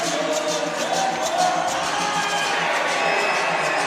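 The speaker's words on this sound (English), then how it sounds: "We have a great crowd here." Steady crowd noise fills an indoor arena during a college gymnastics meet, a continuous wash of cheering and chatter at moderate loudness with no single voice standing out.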